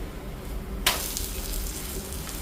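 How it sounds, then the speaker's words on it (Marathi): Moong dal poli cooking on a hot pan: a low background hiss breaks into a brighter sizzle right after a quick flip, then a steady close crackle continues alone. "आता आपण मुगाची पोळी पलटून घेऊया."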